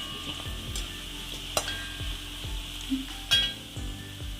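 Vegetables sizzle in a pan with coconut oil and curry leaves while a spoon stirs them in repeated scraping strokes, with a few sharper clinks against the pan, close and steady, and no one speaking.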